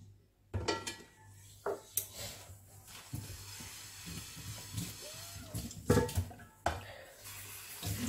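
Water is poured over a baghrir pan at a sink, splashing in uneven bursts amid clinks and knocks of pans and utensils, fairly close and quiet.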